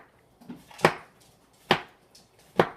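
A knife slicing through a portobello mushroom on a cutting board makes three separate, evenly spaced thuds, each one sharp and close.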